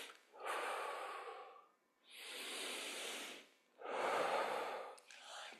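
During seated chair yoga, three long, loud breaths rush in and out through the nose and mouth with short pauses between them, very close.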